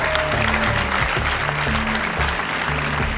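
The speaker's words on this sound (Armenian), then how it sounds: "ծափարությունները" Steady, dense applause from a studio audience at an Armenian comedy league contest show, continuous and loud throughout with a low musical bed underneath.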